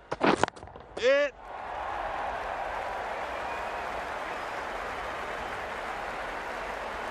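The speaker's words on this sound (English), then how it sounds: "The crowd have enjoyed this one." Crowd applause in the Cricket 19 video game after a century at a one-day international, a steady broad wash of clapping and cheering that swells after a brief burst of sound effects and holds on evenly.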